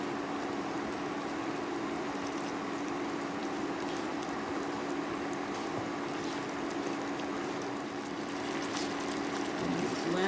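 Seafood boil sauce in a pot on a stovetop burner simmers and bubbles steadily, a soft continuous sizzle and gurgle with a faint hum beneath, no talking over it.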